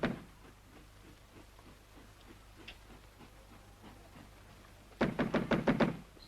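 Knocking on a door in a 1943 wartime film: a soft, regular series of knocks runs under a quiet background, then a louder burst of five or six sharp, close raps at the end.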